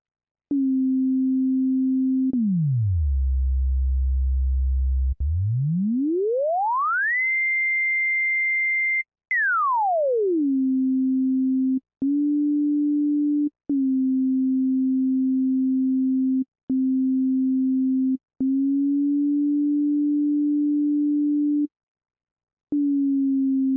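A pure tone from a Sononics Revival drawbar synthesizer holds steady, dips to a low buzz, then slides smoothly up to a high pitch and glides back down with portamento, followed by repeated short steady notes.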